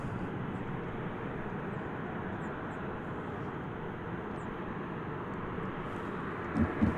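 Aircraft engines at DFW Airport hum in a steady, distant broadband roar as planes line up for takeoff, with a brief louder thump near the end.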